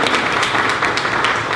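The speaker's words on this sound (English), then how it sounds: "Another round of applause." An audience at a presentation event claps in a dense, continuous patter of many hands, fairly loud and steady throughout.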